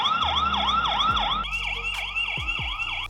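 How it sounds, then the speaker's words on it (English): A VIZIUUY solar security camera sounds its siren, a loud wailing electronic tone sweeping up and down in steady rapid cycles, heard close with a few faint thumps. "On the second screen, siren."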